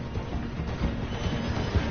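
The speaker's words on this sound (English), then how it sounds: "The train is slowing down to go through the station." A train rolls slowly through a station in a PS4 video game, a steady dense rumble of wheels and carriages at close range with no voices over it.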